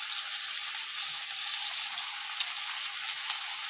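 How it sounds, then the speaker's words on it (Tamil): Onions, tomato and masala fry in a pan with a steady, close, even hiss, and no voices. "மசாலா கொஞ்சம் நல்லா ஃப்ரை ஆகிக்குது"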